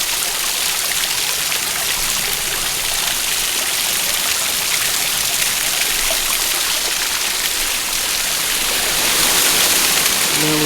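Cold running water pours in a steady, loud, unbroken rushing hiss from close by, with no voices over it.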